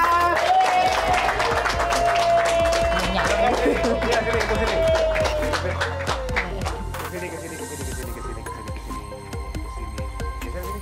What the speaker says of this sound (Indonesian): Boleh minta tepuk tangannya semua.